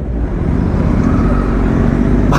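A Kawasaki Z900 motorcycle engine runs with the throttle open, giving a loud, steady low rumble that holds without a clear rev sweep. No voices are heard.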